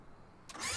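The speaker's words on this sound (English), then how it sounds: "start the engine" A tractor engine in Farming Simulator 19 cranks and catches partway through, then settles into a loud, steady run in a quiet game scene.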